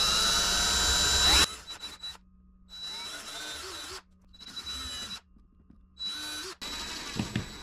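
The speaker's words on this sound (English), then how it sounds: "I used a drill with a bit smaller than the provided screw to pre-drill" A power drill pre-drills screw holes for mini blinds, with a loud opening burst and then several short whirring runs separated by pauses, close by.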